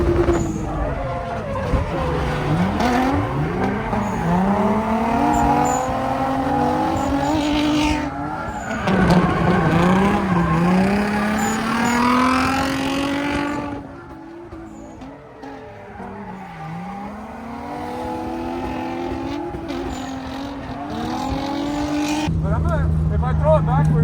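A drift car roars around a track, engine revving up and down repeatedly with tire squeal, loud and continuous over about twenty seconds.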